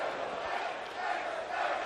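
Esports arena crowd at a CS:GO major semifinal roaring in one sustained, dense swell of cheering, loud and continuous for the whole short stretch.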